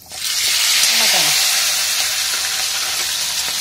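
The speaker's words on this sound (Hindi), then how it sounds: "मटन को बहुत अच्छे से फ्राई करना है" Mutton sizzles loudly in hot vegetable oil seasoned with two cloves and two cardamom pods for Kashmiri rogan josh, a continuous steady fry close up with a brief stirring scrape early on.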